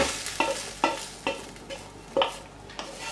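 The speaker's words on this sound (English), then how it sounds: "now we're going to empty the contents, the leeks and the onions, into the saucepan" Chopped leeks and onions go into a saucepan of simmering stock while making leek and potato soup, giving soft repeated splashes and stirring scrapes about every half second over a quiet bubbling background.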